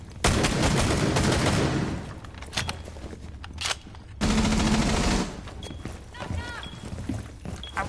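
Video game gunfire aimed at a wall, a loud sustained automatic burst in the first two seconds and another around four to five seconds, with voices talking in between and afterward.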